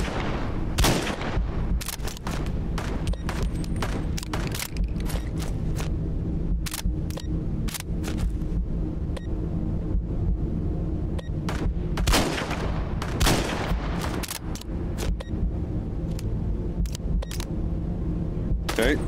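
A shotgun fires repeatedly in a video game, sharp loud blasts coming in irregular bursts over a steady background of game noise.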